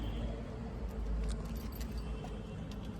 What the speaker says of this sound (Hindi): की को निकालते हैं और की को करते हैं इंसर्ट।